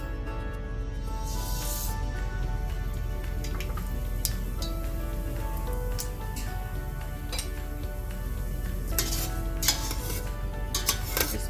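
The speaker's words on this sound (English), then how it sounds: "Just move your mustard around till it splutters." Mustard seeds splutter in hot oil in a pot on the stove, a scattering of sharp pops and light clinks over a steady hiss that grows busier toward the end; no voices.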